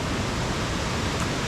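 A waterfall beside a restaurant and trout farm on the Lycian Way gives off a steady, full rush of falling water, constant and close with no talking.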